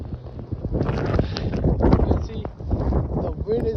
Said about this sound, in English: the wind is blowing like 50 miles per hour right here in Mississauga, Ontario